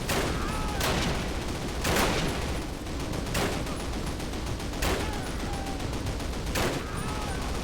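German rifle fire in a Call of Duty World War II game: sharp, loud single gunshots at irregular intervals of about one to one and a half seconds, set against constant dense battle noise with faint speech.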